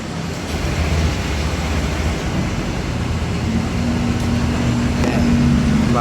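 A Honda Beat scooter engine that stalls when throttled runs at a steady loud idle with a constant mechanical drone, close by and without speech.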